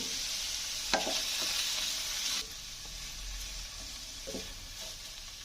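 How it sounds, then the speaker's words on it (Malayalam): Ivy gourd with coconut pieces, salt, turmeric and chili powder fries in a pan, a steady close sizzle broken by scraping stirs, the hiss easing partway through. "ആവശ്യത്തിനുള്ള ഉപ്പ് എല്ലാം കൂടെ ഇളക്കി യോജിപ്പിക്കാം"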